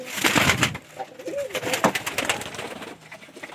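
Pigeons coo in soft, repeated calls while they are being fed, with rustling and brief scuffling noises around them and no talk.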